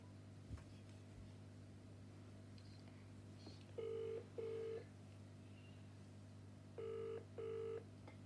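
A phone call being placed rings out through the handset as two paired ringback bursts, each a double electronic trill separated by a pause, over a low steady hum and faint clicks.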